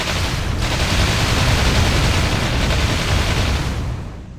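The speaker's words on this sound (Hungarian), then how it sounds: "Lövéskor audiovizuális feedbacket kapunk, de olyat, mint a Zeusként irdatlan dörgéssel villámokat szórnánk a fegyverünkből" Gunfire in an Iranian video game erupts as a dense, sustained barrage with thunderous booms, loud and unbroken for several seconds before tapering off at the end.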